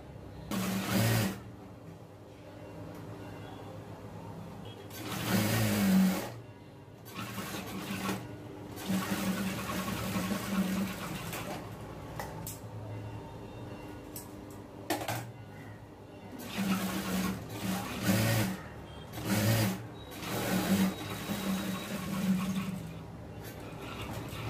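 An electric sewing machine stitches the lining of a blouse in a tailor shop, running in repeated whirring bursts of a few seconds each with short pauses between them, close and fairly quiet.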